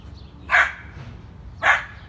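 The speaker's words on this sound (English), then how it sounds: "and Elli barking up at the squirrel" Two sharp dog barks about a second apart, aimed up at a squirrel in a tree, fairly close, with quiet outdoor background between them.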